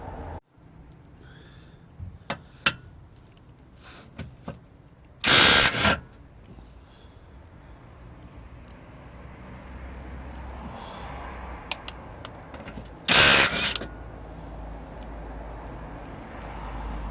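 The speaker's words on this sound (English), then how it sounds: "so I'll take off those four bolts there." Ratchet working on the engine mount bolts during a vacuum engine mount replacement, heard as two loud bursts of rapid clicking about eight seconds apart over a quiet room background, with a few sharp taps between them.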